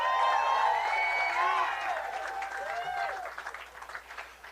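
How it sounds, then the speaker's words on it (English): A crowd out on Hollywood Boulevard claps and cheers at a Walk of Fame star ceremony, with whoops and shouting voices over a steady wash of applause that eases off toward the end. "Give yourselves a hand."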